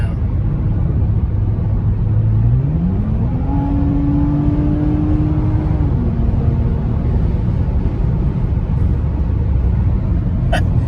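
A car engine revs up through a single acceleration pull, its tone climbing smoothly and holding a steady high drone before easing off, heard from inside the cabin over a constant road rumble.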